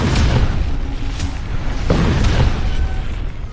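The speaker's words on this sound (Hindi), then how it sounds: "तेहरान में मेहराबाद एयरपोर्ट के पास धमाके।" Deep booms and rumbling blasts roll continuously near Mehrabad airport in Tehran, loud and heavy, with a sharper burst partway through and no voices.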